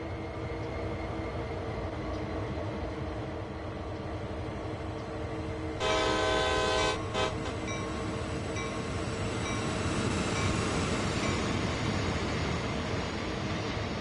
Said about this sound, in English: So where's this train coming from then?